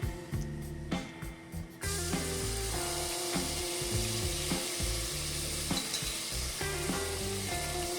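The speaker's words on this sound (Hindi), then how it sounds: "और इसको अच्छी तरह भून लेते हैं।" Loud, close sizzling from a hot pan as ginger-garlic paste fries with browned onions, with scraping and clinking of a spoon stirring throughout.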